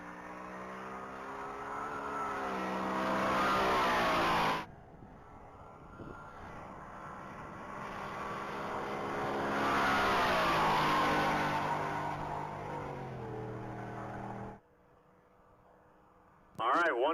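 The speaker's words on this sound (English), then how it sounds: "That's going to be Chris and Angelique Morris in their Ford F-150 half-ton pickup truck." A Ford F-150 half-ton pickup with its tailgate dropped makes a top-speed mile run at the Texas Mile, its engine roaring loud and rising in pitch through the gears, dropping away abruptly, then building again.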